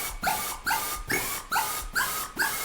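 A Snails-style bass synth patch built in Tryple, raw and noisy before effects, pulses in five or six evenly spaced growling, vowel-like hits with a pitch sweep on each, alone and fairly loud.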